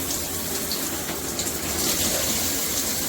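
A Jcrob 12-inch high-pressure handheld shower head combo sprays water in a continuous, even hiss and gush that stays steady and close for about three seconds, with no talking.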